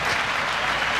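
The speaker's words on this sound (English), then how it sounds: "Thank you for your applause" Audience applause at a live concert, a brief steady wash of many hands clapping at even volume, with no voices.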